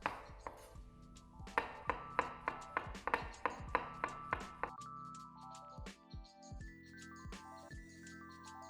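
A knife slices through mushrooms on a cutting board in a quick series of crisp, close taps, then slows to a few scattered cuts. Soft background music with sustained tones plays underneath.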